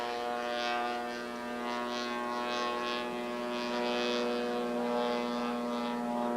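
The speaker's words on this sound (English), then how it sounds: "Listen to the engine in that airplane." A powerful airplane engine drones steadily at an airshow, a sustained, fairly distant tonal hum with a low rumble, slowly swelling and fading with no talk over it.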